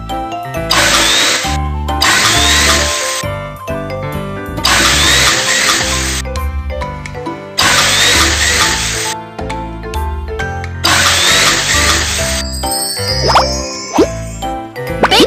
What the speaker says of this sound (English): First, drill some holes on the ice.